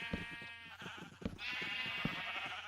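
Sheep bleating inside a Minecraft automatic wool farm, several short wavering game bleats overlapping in close succession at moderate loudness, with no speech.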